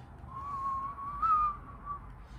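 A person whistles a wavering, breathy tune imitating the wind, a single soft sustained whistle that rises and falls, heard alone without talk.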